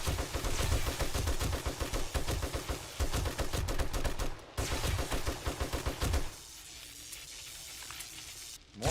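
Gunfire from the 7 Days to Die survival video game rattles in loud, dense automatic bursts that pause briefly near the middle and fade to quieter crackling toward the end, with no talking.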